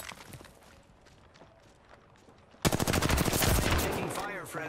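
Rapid automatic CAR submachine gun fire in a shooter video game, quiet scattered shots at first, then a loud sustained burst of rapid shots from midway to the end.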